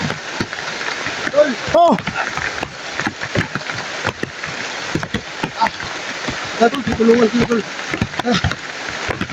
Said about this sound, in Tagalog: Lakas ang ulan tol.